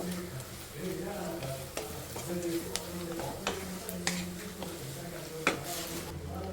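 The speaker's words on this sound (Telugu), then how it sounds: "ఇది సిమ్లో పెట్టి బాగా ఫ్రై అవ్వనిద్దాం." Ivy gourd fries in a pan with a steady low sizzle, while sharp ticks and scrapes of a spoon stir it at intervals and muffled talk runs faintly in the background.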